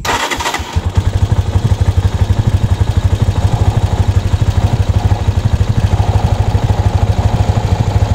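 A motorcycle engine, run after a carbon cleaner treatment, cranks and fires within the first second, then settles into a loud, close, steady idle with an even, rapid pulsing beat, with no talking.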